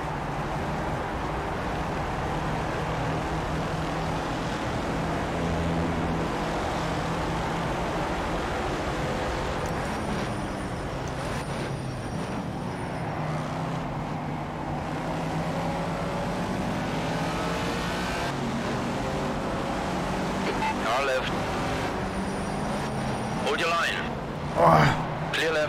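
Race car engine in the racing video game Project Cars, a steady continuous drone with shifting revs throughout, running under talk with brief louder bursts near the end.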